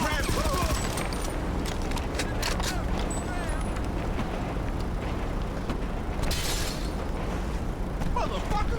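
Gunfire from an M4A1 rifle in GTA Online rattles in rapid bursts, loud and close, with sharp cracks and scattered pops, backed by engine noise and other explosive chaos.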